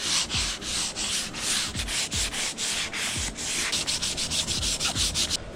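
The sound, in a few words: hand sanding car body edges with 400 grit sandpaper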